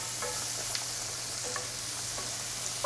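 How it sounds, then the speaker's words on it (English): Shallots sautéing in melted butter in a pan, a soft continuous sizzle with a few light stirring clicks, close and fairly quiet with no talking. "we're just gonna saute those for a few minutes"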